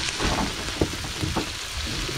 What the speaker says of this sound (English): Corned beef hash frying along.